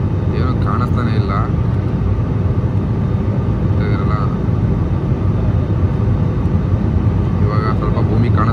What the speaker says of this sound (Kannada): ಮೋಡ ಒಳಗಡೆ ಫ್ಲೈಟ್ ಹೋಗ್ತಾ ಇದೆ